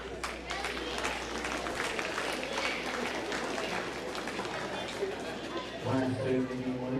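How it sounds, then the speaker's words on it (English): Audience applause at a county stock show, dense steady clapping from a crowd filling the whole stretch, with a voice and faint tones surfacing near the end. "Give them a big round of applause and a nice job."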